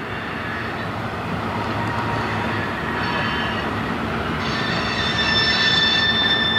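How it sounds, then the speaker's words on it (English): A long Norfolk Southern or CSX freight train of tank cars rolls past at Fostoria, Ohio, a loud, continuous rumble of wheels on rail close by, with high metallic wheel squeals rising toward the end. "Pretty long tanker train."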